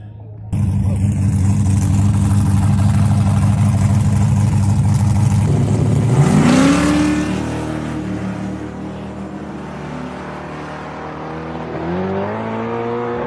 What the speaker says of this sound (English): I'm gonna leave in second gear and see if it hooks, stays planted the whole way.